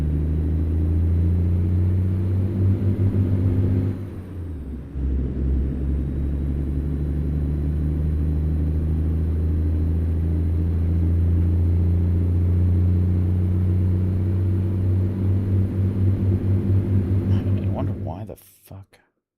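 In a video game, a car engine pulls under throttle with a low, continuous droning rumble, briefly dipping near the middle before holding steady and cutting off at the end.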